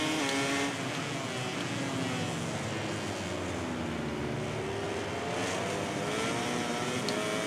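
A racing motorcycle in the MotoGP 18 video game revs hard, its engine note holding a continuous high whine that rises and falls slightly as it runs on, loud and alone without talk.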